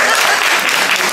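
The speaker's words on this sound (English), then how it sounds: "Let us clap her birthday in." A crowd claps for a birthday in a brief, dense burst of applause that stays steady and loud throughout.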